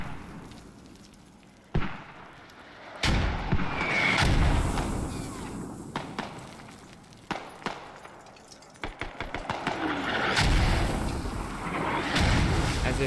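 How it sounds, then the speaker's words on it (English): Mortar rounds raining down in the video game Squad, heavy explosions landing a few seconds apart with a burst of rapid cracks between them, loud and booming over a rumbling battlefield bed. "Mortars rain down"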